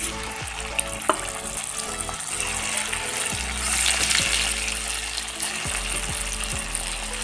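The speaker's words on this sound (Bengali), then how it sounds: "আমি আবারও আমি ভেজে নিচ্ছি" Chicken pieces coated with garam masala and Kashmiri chilli sizzle steadily in hot oil for chilli chicken, with close, repeated scraping and stirring clatters over a constant hiss and no talk.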